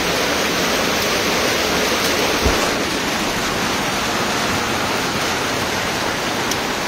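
Heavy typhoon rain pours down in a dense, steady broadband hiss that stays loud and unbroken from start to finish, with a brief low thump partway through and no voices.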